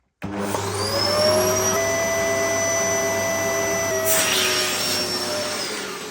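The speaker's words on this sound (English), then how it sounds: "let's see how much suction this thing has compared to the Dust Manager." A Hoover vacuum cleaner starts abruptly and runs loud and steady through a suction test, its high motor whine holding constant with a brief rush of extra airflow noise midway, and no voices.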